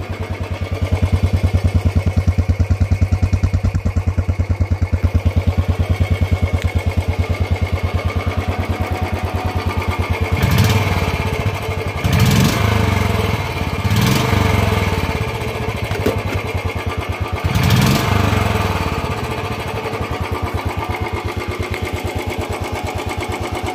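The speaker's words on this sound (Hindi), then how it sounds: "तो ये है गाइस इसकी साउंड इंजन की और साइलेंसर की।" A 2020 Royal Enfield Standard 350 BS6 EFI motorcycle idles steadily, its engine and silencer thumping loudly and evenly close by, with no talking.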